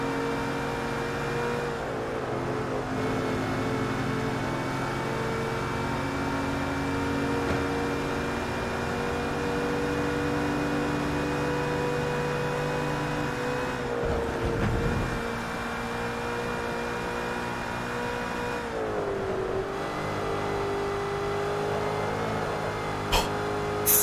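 A Ford GT racing in the Forza Motorsport 3 video game on the Nürburgring Nordschleife, its engine a loud, sustained drone that rises and falls with gear changes and corners.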